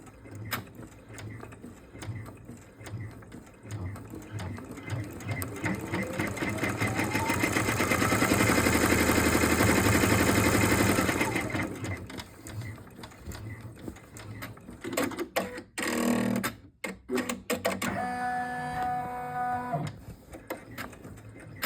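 A computerized embroidery machine stitches guideline outlines for a fabric Easter egg, making a rapid, rhythmic mechanical chatter that swells louder midway, then fades to intermittent clicks, thumps and a brief beeping tone near the end.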